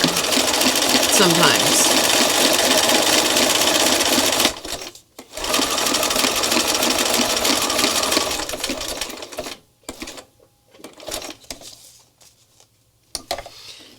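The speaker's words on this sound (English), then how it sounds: "And this Bernina will stitch on air better than any other machine I'm aware of." A Bernina sewing machine stitches in fast, steady bursts that run loud for several seconds, stop briefly, then resume before trailing off into short stitches, with a person speaking briefly over it.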